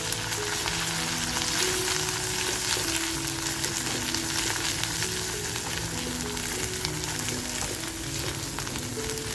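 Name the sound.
masala frying in a pan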